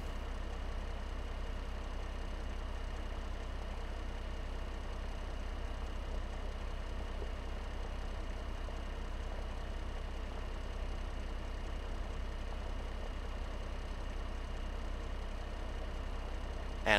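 A John Deere 4020 tractor engine running in Farming Simulator 15, a steady low droning hum that stays even and moderately quiet throughout, with no talk.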